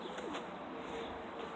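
Pigeons cooing in a loft on a homestead, soft repeated coos over a steady background hum, with no talking.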